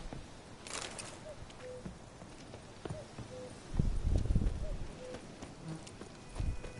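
A horse in the Witcher 3 video game gallops with rhythmic clip-clop hoofbeats, moderately close and growing louder partway through, with small game sounds around it.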